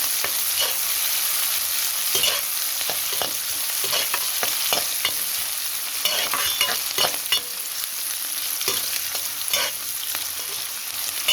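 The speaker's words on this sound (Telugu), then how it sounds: "మంచిగా వేగాలి, అట్లాగా బాగా వేగనిచ్చి బాగా కలుపుకోవాలి ఫ్రెండ్స్." Green chillies fry in a hot pan, a constant crackling sizzle punctuated by frequent irregular scrapes and clinks of a spoon stirring them.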